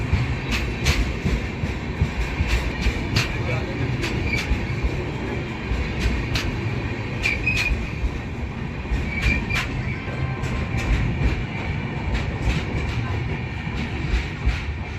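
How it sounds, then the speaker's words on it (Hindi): Gonda Express train pulling in at platform number 1, a steady loud rumble of wheels and carriages with repeated rhythmic clicks running throughout. "गोंडा एक्सप्रेस आ रही है प्लेटफॉर्म नंबर 1 पे। हॉकिंग मारते हुए आ रही है भाई।"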